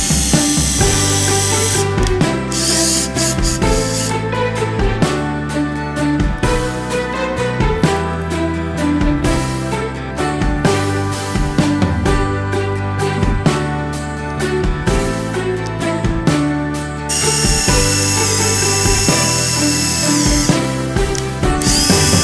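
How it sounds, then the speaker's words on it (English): A power drill bores into a wood cookie slice shaped as a snowman's body, its motor whirring in repeated bursts with brief pauses between runs, close and loud with no talking. "then you'll just start drilling into the body of your snowman."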